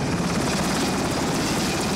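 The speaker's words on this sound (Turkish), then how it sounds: "Helikopter Maslak Kışlası'ndan hareket etti." Gendarmerie helicopter flying over highways and residential areas, seen from on board, with loud, dense, continuous rotor and engine noise throughout.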